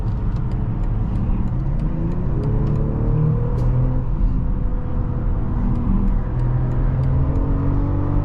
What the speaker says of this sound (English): Great acceleration. RPMs stay up high when you're in sport mode.